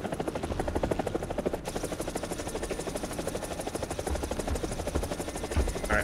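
An enemy helicopter in the VR flight game G-LYNX thrums in with a steady rotor chop, a rhythmic beating pulse that holds evenly throughout at moderate distance, with no talking over it.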